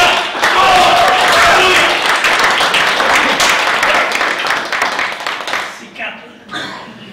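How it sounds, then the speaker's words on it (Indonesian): A church audience claps to welcome a speaker, and the loud, dense applause fades toward the end. Coughs and a few voices come through near the close. "Mari kita sambut dengan tepuk tangan Raditya."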